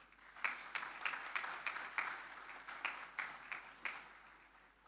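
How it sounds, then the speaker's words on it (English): Scattered hand claps from a small conference audience at India Maritime Week 2025, a steady patter of applause lasting several seconds at moderate distance, fairly quiet. "Let's all applaud for Ms. Naes as I now hand over the stage to her."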